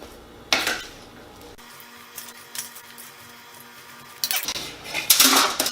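Metal utensil scraping and clinking against sheet pans while pancake bake batter is stirred, a series of light scrapes and taps with brief louder clatters near the start and end.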